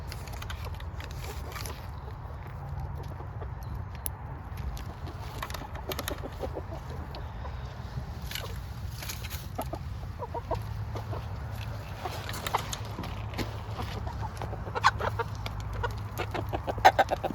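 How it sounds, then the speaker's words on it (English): Chickens clucking and murmuring nearby, with occasional louder squawks over a steady low background hum. "hey, chickens."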